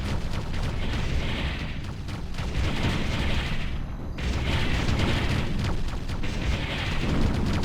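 A game structure blowing up in the military strategy game Ground Control, heard as sustained loud rumbling booms with rolling blasts and a short dip partway through before the roar resumes.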